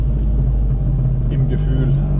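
Piaggio Ape 50 three-wheeler rolling over a bumpy new road, its small engine droning in a steady low rumble with rattling jolts, close and continuous throughout.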